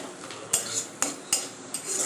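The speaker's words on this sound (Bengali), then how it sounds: "যে ডিমটা দিয়ে দিয়েছি এখন ভাজছি" An egg fried in a pan with onion, chili, salt and turmeric, a metal spatula striking the pan in four sharp, close clinks over a soft background hiss.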